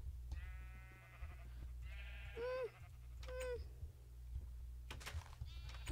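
Sheep in a survival video game give two short, wavering bleats, moderately clear over a steady low background hum, with quiet clicks and game sounds around them.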